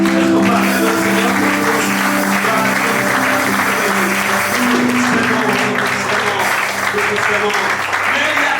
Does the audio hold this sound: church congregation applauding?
yes